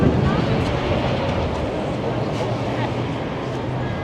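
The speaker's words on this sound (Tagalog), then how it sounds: "Lumakas yung hangin." Strong wind gusts roar steadily and loudly across the microphone on a London street near Big Ben and Westminster Bridge, a dense rumbling buffeting throughout.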